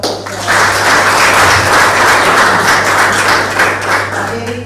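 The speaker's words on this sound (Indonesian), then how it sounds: "Selanjutnya mari kita kasih aplaus untuk Profesor" A lecture hall audience applauds a professor at a public university lecture, loud dense clapping that holds steady for several seconds and then begins to fade.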